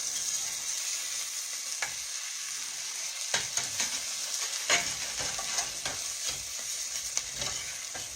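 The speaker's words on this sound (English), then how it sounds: "We'll make sure our fish are done. We'll turn it on the other side a minute." Fish frying in a pan for a fish and grits breakfast, a continuous close sizzle with scattered crackles and light scrapes of a utensil as the fish is turned, no talking.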